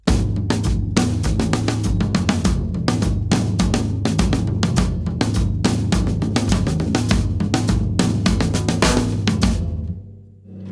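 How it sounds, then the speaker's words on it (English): A drum kit plays a worship-song groove with a single stroke roll fill, dense rapid hits over a steady pattern, loud and close, ending in a brief decay. "then just revert to a single stroke roll, and that would sound like this"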